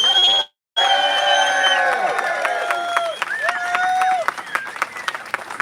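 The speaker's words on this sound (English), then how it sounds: "Let's have a big cheer for these two gentlemen" A rally crowd outside the Russian Consulate bursts into loud cheering and shouting after a brief cut, followed by scattered clapping and whoops that continue close by.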